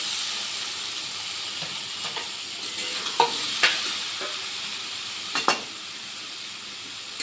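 Egg and pointed gourd stir-fried with spices in a pan, a steady close sizzle and hiss with a few sharp scraping stirs of a spatula cutting through.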